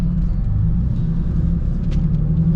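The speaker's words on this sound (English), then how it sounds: "You think my rear mount can go over the speed bump?" A car with a rear-mounted turbo idles and creeps over a speed bump, a steady low engine rumble that stays loud and close throughout, with no voices.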